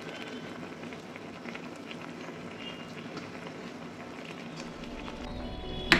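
Water bubbling at a steady simmer in a pot as varan phal (dal dhokli) cooks, a soft continuous low rumble and patter without pause, with a brief knock near the end.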